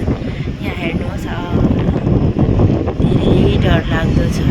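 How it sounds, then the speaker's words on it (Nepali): Strong gusty wind roars across the microphone throughout, loud and rumbling as rain falls, with a person speaking faintly beneath the blustering noise. "यहाँ हावाको आवाज सुनेर एकदम डर लाग्दैछ।"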